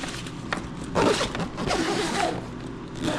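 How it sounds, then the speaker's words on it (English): Hidden zipper on a wheeled luggage bag being zipped closed, a close, rasping drag running in a couple of pulls. "we can re-zip this hidden zipper,"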